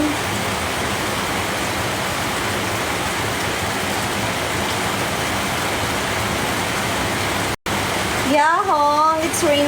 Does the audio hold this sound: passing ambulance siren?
no